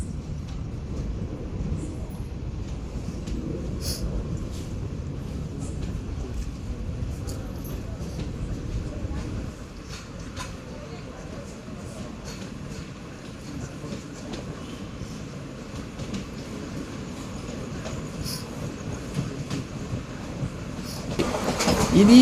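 Express train 17662 pulls away from a station after a brief halt and runs on along the rails, a steady low rumble with clicking wheel joints heard from inside a coach, swelling louder toward the end.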